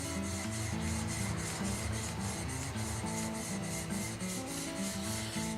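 A chisel is sharpened and polished on a grit stone, giving a steady, continuous rasping rub of metal against stone, close and fairly even throughout, over a faint tonal backdrop.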